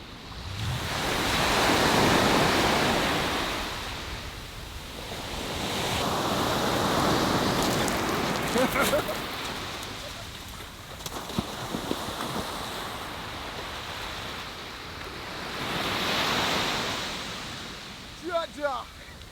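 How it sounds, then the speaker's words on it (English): Ocean waves roll onto a black sand beach in Kingston, Jamaica, in slow, swelling surges that rise and fall every few seconds, mixed with wind rumble on the microphone and a few faint knocks near the end. "Listen to the ocean."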